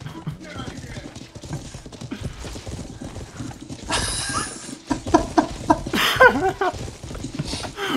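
Horse hooves clip-clop in the medieval game Life is Feudal, a rapid run of close hoofbeats amid shouting voices, with a burst of noise and a brief whinny-like call.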